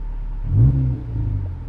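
A K20-swapped Porsche 997 revs up close, a rising engine roar that swells around its peak and then settles into a steady rumbling drone, with no talk.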